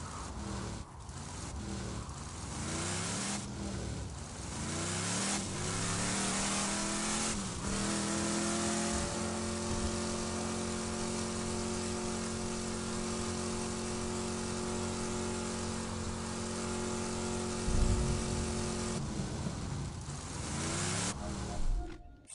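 Car engine in a PS4 driving video game, revving and holding steady as it accelerates, with rising and gliding engine tones and a brief tire squeal, loud and alone without talk.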